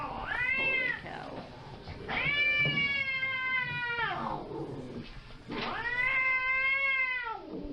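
A cat caterwauls in three long, drawn-out yowling wails with short gaps between them, fairly close and loud, with no talking over it.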